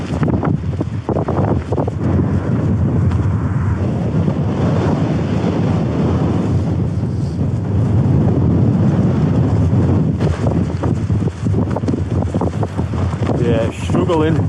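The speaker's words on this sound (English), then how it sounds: "It's windy though now." Strong wind gusts across a coastal campsite with a bivvy and tarp, a steady loud roar of buffeting air on the microphone throughout, with faint speech at moments.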